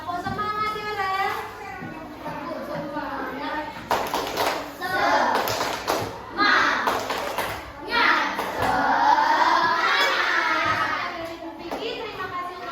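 Children in a class chant together and clap in rhythmic bursts, a group of young voices led through a lively call-and-response clapping routine (tepuk semangat).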